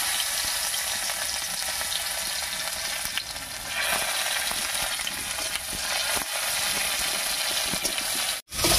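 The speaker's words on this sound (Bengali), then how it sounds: "এবারে থেতো করা রসুন আর চেরা কাঁচা লঙ্কা দিয়ে ফোড়ন দেব" Crushed garlic and slit green chillies fry in hot mustard oil in a wok, a steady close, bright sizzle that holds evenly throughout before a brief clatter near the end.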